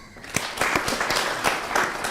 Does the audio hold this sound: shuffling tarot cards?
no